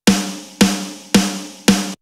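Four evenly spaced hits of a dry snare drum sample, each a sharp crack with short ringing decay, played alone in a steady rhythm.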